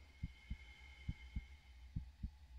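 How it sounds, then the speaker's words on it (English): A heartbeat sound effect in a horror video game thumps in slow, evenly spaced double beats, soft and low over a faint steady hum, with no talking. "listen to the heartbeat"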